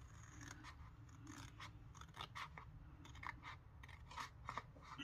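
Scissors snip steadily through paper being trimmed for a Christmas folio, a run of quick close cuts over a low background hum, with no voices.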